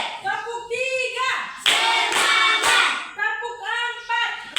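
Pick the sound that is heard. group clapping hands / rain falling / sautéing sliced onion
group clapping hands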